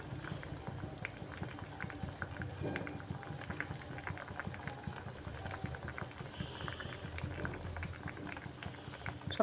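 Tilapia fish curry with ridge gourd and potato simmers in a pot, a quiet continuous bubbling and gentle popping, faint and steady throughout.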